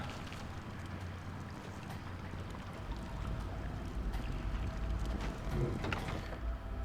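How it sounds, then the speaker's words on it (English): Water flows and sloshes continuously in the video game Oblivion, with a low rumbling wash that grows slightly louder midway. "I also hear water."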